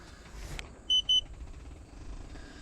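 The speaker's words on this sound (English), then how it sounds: "Let me turn this beeping noise off" Two short, bright electronic beeps from a cooking timer at an outdoor homestead cook-out in Arkansas ring out close together over steady background noise.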